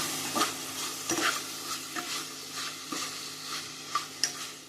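Salted chicken pieces stirred in a hot frying pan give a steady sizzle with repeated scraping strokes of the spoon, close and moderately loud, with no voices.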